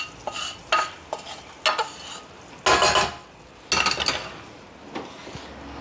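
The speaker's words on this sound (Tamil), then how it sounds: "இந்த வறுத்த தேங்காவையும் இந்த பாகிலே சேர்த்துக்கிறேன்." Roasted coconut being stirred into jaggery syrup in a pan, repeated scraping and clattering strokes of a spoon against the metal in irregular bursts, close up, with a soft bubbling between strokes and no talking.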